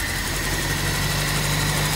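A Triumph Herald convertible in maroon idles on full choke, its engine running low on fuel with a steady, loud, close rumble and even vibration throughout.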